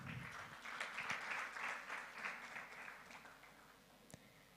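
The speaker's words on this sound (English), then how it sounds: "A round of applause to Alice." Audience applause for a panelist at an awards ceremony live stream, a steady wash of many hands clapping that swells early, then gradually thins and fades, with one sharp louder clap near the end.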